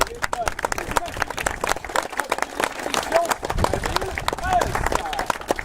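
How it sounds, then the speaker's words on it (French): Crowd applause and cheering at a youth cycling race, dense clapping sustained throughout under a loud announcer's voice. "tous ensemble, je vous demande un tonnerre d'applaudissements"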